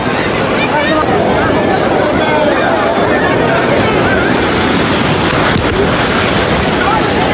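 Sea waves roll in on a crowded Digha beach in a loud, unbroken wash of surf. Heavy wind buffets the microphone, and a busy hubbub of voices sits underneath.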